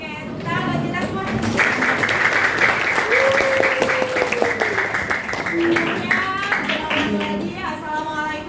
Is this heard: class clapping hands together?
yes